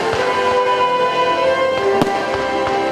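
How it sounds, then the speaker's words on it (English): Fireworks exploding at a Fourth of July celebration, loud and close, with a dense run of crackling bangs and sharp pops over a sustained sizzling roar, one especially sharp burst partway through. "Fireworks."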